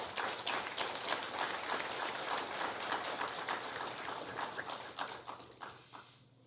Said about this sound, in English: Big round of applause for our candidates.